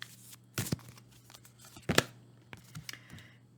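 Tarot cards shuffled by hand in a quiet room, heard as a few sharp riffling bursts separated by short pauses, close and fairly soft, with no talking.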